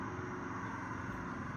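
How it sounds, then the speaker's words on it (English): A truck drives past outside in the UK, a low, steady engine rumble that stays fairly faint and constant throughout. "there's some truck going outside, which doesn't happen that often"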